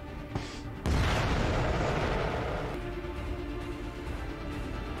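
A heavy weapon in The Expanse fires a single deep, booming blast after a brief lead-in, followed by a long rumbling roar that slowly fades but stays loud, with no voices.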